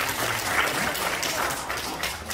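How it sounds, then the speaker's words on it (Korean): An audience at a political party launch event applauds to welcome a speaker, a dense steady round of clapping throughout. "큰 박수로 모시겠습니다"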